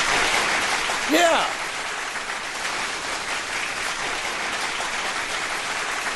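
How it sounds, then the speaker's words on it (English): Audience applause at a comedy-style dating talk show rolls on steadily as a broad, even wash of clapping, with a voice speaking briefly over it near the start. "Big round of applause for that"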